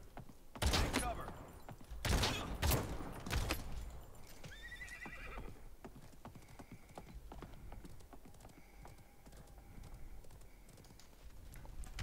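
Horse mount in the online battle-royale game Realm Royale: loud whinnies and clip-clopping hooves in the opening seconds, then fainter rhythmic hoof and game clatter with light electronic tones.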